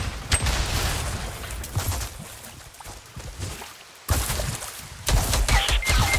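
Game gunfire in Fortnite during a close fight near stairs: dense bursts of shots and impacts, loud and near, with an action-game soundscape that stays busy throughout.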